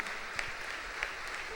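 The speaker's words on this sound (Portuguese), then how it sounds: "Vamos aplaudir o Evangelho." A church congregation applauds after the Gospel reading at Mass, with faint, distant, steady clapping and a couple of sharper individual claps standing out.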